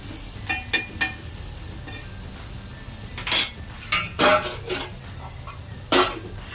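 A spoon clinks and scrapes against a pan while coriander-cumin powder is stirred into cooked ivy gourd, making scattered metallic taps and short scraping strokes over a faint sizzle.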